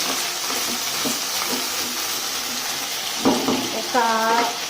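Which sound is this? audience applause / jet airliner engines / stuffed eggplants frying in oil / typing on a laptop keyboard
stuffed eggplants frying in oil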